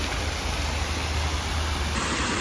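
Fountain water cascading in an urban park in Sydney, a constant loud broadband rush and splash that stays even throughout, with no voices over it.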